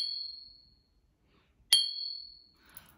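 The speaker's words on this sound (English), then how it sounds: "That's the sound of china, not glass." Two clear ringing tings of a piece of china tapped by hand, each a bright tone with a long echoing decay, the second louder, followed by a faint clink.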